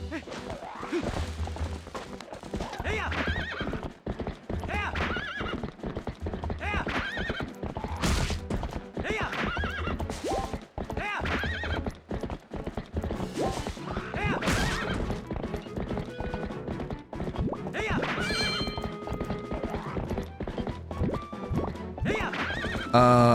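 Epona, the horse in Twilight Princess, gallops with continuous clip-clop hoofbeats and lets out several loud neighs and whinnies in the game.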